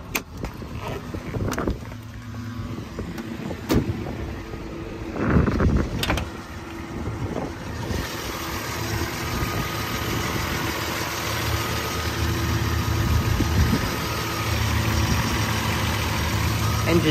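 A low-mileage Toyota Land Cruiser truck with a triple-locking drivetrain idles steadily and quietly nearby, its even engine hum continuing without break after a few brief knocks and handling sounds at the start.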